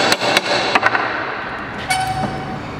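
A hammer strikes the sheet-metal body of a VW Kombi under restoration, about five sharp, ringing metallic blows in an irregular rhythm, close and loud in a workshop.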